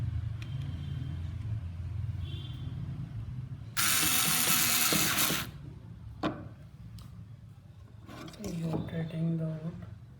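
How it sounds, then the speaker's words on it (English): A Black and Decker KC4815 cordless screwdriver drives a screw into wood in one loud whirring burst of about two seconds, with someone talking and faint handling clicks before and after. "I'll just screw this inside."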